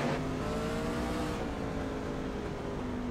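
Onboard a race car in a RedLight Racing Series event at Mid-Ohio, the engine drones steadily and loudly as the throttle shifts slightly, with no talk.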